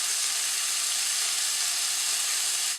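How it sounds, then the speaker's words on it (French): Soy sauce hits a hot pan of leek and sizzles in a steady, bright, hissing wash, close and continuous without pause before cutting off abruptly. "je suis assez fan du soja, donc je pense qu'on va déglacer à ça"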